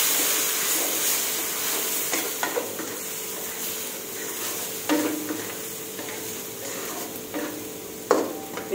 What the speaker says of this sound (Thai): ผัดไปเรื่อยๆให้สุกค่ะพี่น้อง